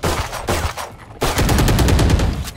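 Classic pistol fire in the video game Valorant: rapid bursts of loud, close gunshots in two quick volleys separated by a brief pause, with no talking.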